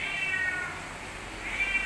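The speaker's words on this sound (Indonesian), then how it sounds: "ada kucing teman-teman ya. Laper kali itu, belum dikasih makan." A hungry cat meows near an orchid plant outdoors; the cries are loud, close and drawn out, with a raspy, steady tone and no talk.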